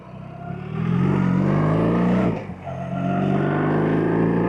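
A 2025 BMW R1300RT motorcycle engine revs up and holds a steady, loud drone, dips briefly, then climbs back to a sustained high-revving tone, heard close with no talking.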